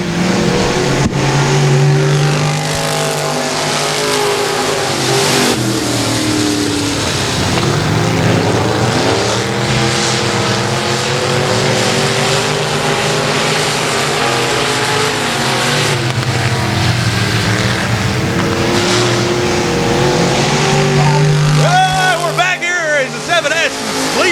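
Hobby stock cars race around the Texarkana 67 Speedway, a steady loud engine roar with revving that swells and fades throughout, under continuous commentary.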